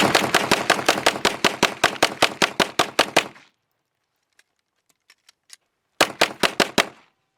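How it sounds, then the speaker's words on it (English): Rapid bursts of close, loud gunfire ring out during a simulated firefight: about three seconds of fast repeated shots, a pause with a few faint clicks, then a shorter burst of rapid shots. "This is going to be your first firefight, so it's probably going to look a little bit something closer to this."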